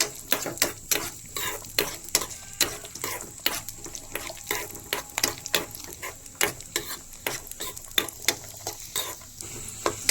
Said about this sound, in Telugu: ఇప్పుడు ఇది గోల్డెన్ కలర్ వచ్చేంత వరకు ఆయిల్లో వేడి చేసుకుందాం.